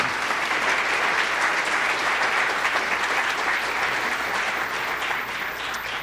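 An audience at the Innovate Fort Collins Challenge pitch event applauds steadily, a dense, even clapping from a sizeable crowd that holds for several seconds and fades slightly at the end.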